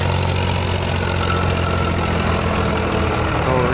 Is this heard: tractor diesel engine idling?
yes